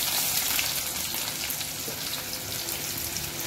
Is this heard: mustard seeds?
yes